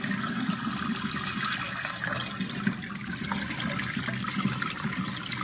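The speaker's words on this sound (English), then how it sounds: "So it's just about done emptying out the rinse water. It's just barely dripping there." Rinse water drains out of a portable washing machine in an RV, a steady low trickle and splashing with faint dripping, continuous and fairly quiet, with no talking.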